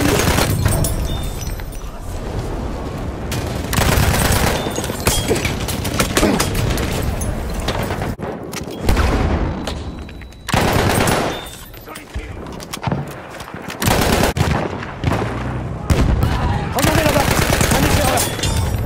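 Rapid machine-gun bursts and scattered rifle shots ring out in Battlefield 1 fighting around the Ribeyrolles factory, a loud, dense battle din with short lulls, while a player's voice speaks over the gunfire.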